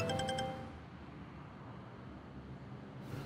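A phone ringtone chimes in brief repeating tones for about half a second at the start, then gives way to steady road and traffic noise during a pause in a ride.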